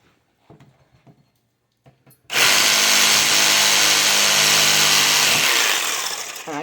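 A Ryobi jigsaw cuts away excess wood, starting after a few soft handling knocks and then running as a loud, close, continuous rasping buzz before easing slightly near the end.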